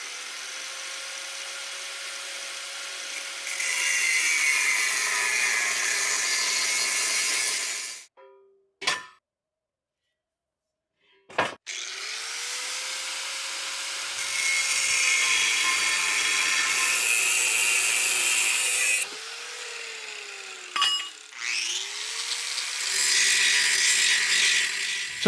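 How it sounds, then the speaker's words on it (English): An angle grinder with no guard cuts steel square tubing for a lathe stand, a loud, steady abrasive roar with a whining pitch that sags under load. It stops briefly twice, then resumes cutting. "I'm using my grinder without a guard"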